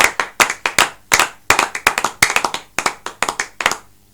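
A church congregation claps together in quick, sharp bursts, loud and close, the rhythm uneven as many hands strike at once.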